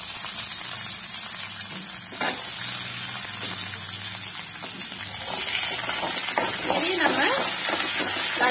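Peeled shallots and garlic sautéing in oil for a chutney, a steady close sizzling hiss throughout, with light clinks and stirring noises growing busier toward the end; no one speaks.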